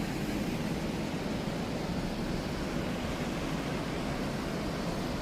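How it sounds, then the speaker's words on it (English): Water gushing through a lock on the C&O Canal in Georgetown, a constant dense roar, steady and unbroken throughout with no voices. "it's just amazing watching all that water down there just gushing through"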